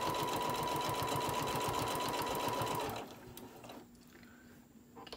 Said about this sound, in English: Get this sewed down good.